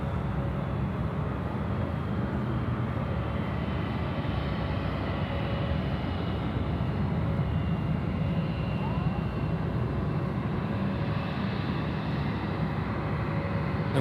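A Jetstar airliner in from Melbourne landing at Sydney Airport, a steady broad jet roar that holds at a constant level at some distance, with faint voices underneath.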